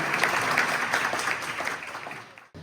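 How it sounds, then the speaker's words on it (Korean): Audience applause at a national youth debate festival opening, a dense wash of clapping that fades and stops abruptly near the end. "힘찬 박수 부탁드립니다"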